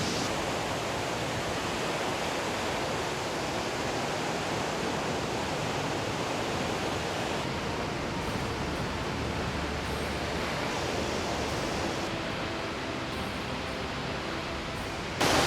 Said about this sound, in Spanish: una cascada así adentro de una cueva creo que nunca habíamos visto